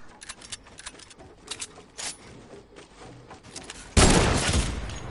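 Fortnite gunshots in rapid bursts, a series of sharp cracks at uneven intervals, ending with a loud close blast that rolls into a noisy rumble.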